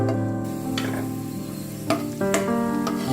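Whole spices, bay leaf, cinnamon and cardamom, sizzle steadily in hot oil over a medium flame for a shahi chicken roast, with a few stirring scrapes in the pan.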